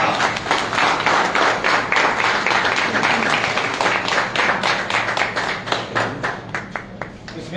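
An audience claps and applauds steadily to welcome Izzat Kamal Pasha at a CDA Employees Union Pasha Group reception, a dense, continuous run of many hands with faint voices mixed in.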